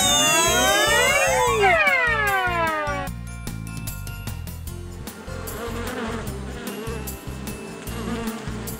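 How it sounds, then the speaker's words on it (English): A cartoon bee buzzing sound effect plays over a steady, loud rhythmic music bed, with sweeping whistle-like tones at the start giving way to a continuous buzzing texture. "Is it a bee?"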